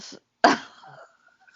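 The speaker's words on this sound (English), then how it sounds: "I coughed." A single sharp cough, close and clear, with a brief breathy tail after a moment of near silence.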